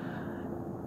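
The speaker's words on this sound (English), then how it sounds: "the airplane's loud engines from a distance." Steady, broad low roar of a distant airplane's engines at night, a continuous even rumble with no talk over it.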